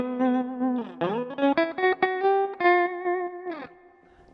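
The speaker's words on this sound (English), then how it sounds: "It's definitely pulling the amplitude up and down a lot more sharply." An electric guitar plays through a JHS Kodiak tremolo pedal set to a sharp, percussive, choppy pulse, giving a string of loud sustained notes and chords that rise and shift in pitch, close and alone with no voice.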